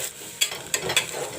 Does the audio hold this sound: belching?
no